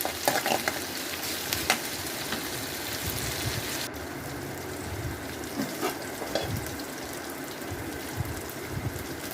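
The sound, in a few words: onions with ginger garlic paste sautéing in a pan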